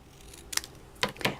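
Scissors snip twice through a small paper circle, a quick faint cut followed by a pair of crisp snips close by in a quiet room.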